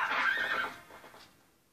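A horse neighs in The Legend of Zelda: Twilight Princess HD, one loud, close whinny that sweeps downward and fades out within about a second.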